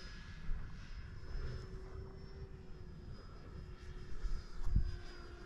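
A model airplane, a Viper or Turbo Timber Evo, flies at a distance with a steady, fairly faint engine drone and a thin high whine running throughout, rising slightly near the end.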